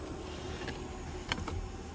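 Sunroof motor of a 2025 Ford Escape plug-in hybrid sliding the glass roof panel open inside the cabin: a faint, steady electric whir under low road rumble, with a couple of brief clicks near the end.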